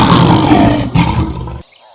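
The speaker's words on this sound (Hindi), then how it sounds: "ये सुनते ही शेर दहाड़ कर बोला" A lion roars in a children's animated Hindi story, one loud, long, rumbling roar that dips and swells again before cutting off, close and alone.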